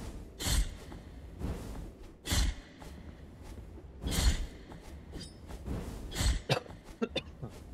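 A person coughs repeatedly, about five or six short, fairly quiet bursts spaced a second or two apart, with no talking in between.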